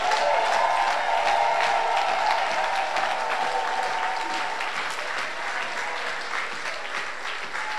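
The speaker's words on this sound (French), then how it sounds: "Est-ce qu'on peut acclamer pour le roi des gloires?" Sustained applause from a large church congregation, a dense steady wash of many hands clapping together that fills the room for the whole stretch, fading only slightly toward the end.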